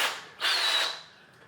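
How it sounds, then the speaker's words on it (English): A Craftsman power drill whirs in two short bursts, the second a louder high-pitched spin lasting about half a second before winding down, close by with no talk. "This clip is just for you, Brandon Ponder, because I know you love this Craftsman drill so much"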